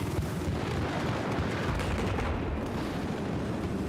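Sustained, dense SMG gunfire in a shooter video game roars steadily and loudly through the whole stretch, a continuous rapid burst with no pauses.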